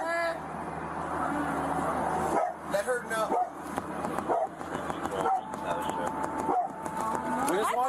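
A dog barks and yips inside a car, with repeated sharp barks and whimpers close to the microphone. People talk over and between the barks throughout.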